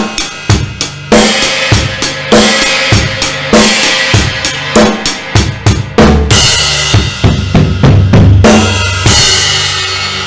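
A drum kit runs through a beat at a slower tempo, with a snare and hi-hat pattern, China cymbal accents and a closing fill into sustained crashes. The sound is loud and close and there is no talking.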